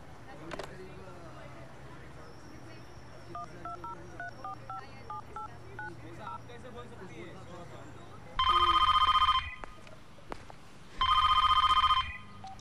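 A telephone number is dialed as a quick run of short, clear touch-tone beeps, followed by two long, loud electronic rings of the phone at the other end, with faint voices and background sounds beneath. Set in a police station in a Hindi film.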